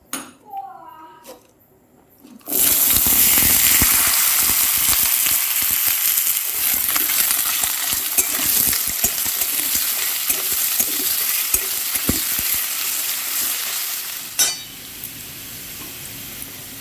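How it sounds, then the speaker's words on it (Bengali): Potatoes frying in hot mustard oil, a loud continuous close sizzle that bursts in after a quiet start, with stirring scrapes throughout and the frying fading near the end. "আমি সরষের তেল দিয়ে দিয়েছি, তেল গরম হয়ে গেছে। এর উপরে আমি আলুগুলো কষে নেব।"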